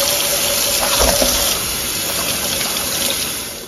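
Tap water runs steadily over a block of medium firm tofu being rinsed, a continuous broadband splashing hiss that holds throughout and tapers slightly at the end, with no talking.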